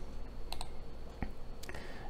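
A few short, sharp computer mouse clicks while working in InDesign, close and isolated over quiet room tone: a pair of quick clicks, then a single soft tap and another brief click later.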